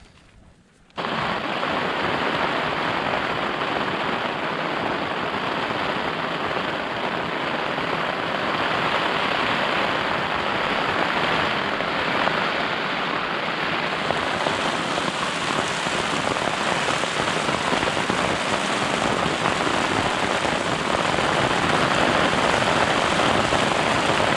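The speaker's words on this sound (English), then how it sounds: "the rain has eased off a bit, thankfully" Heavy rain pours down on a wild camp in Ettrick Valley, Scottish Borders, in a loud, constant roar of drops hitting surfaces, unbroken for the whole stretch after a brief quiet start.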